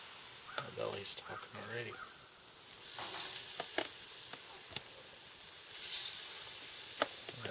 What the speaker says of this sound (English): And now we're just gonna put it on the grill to pretty much heat it up.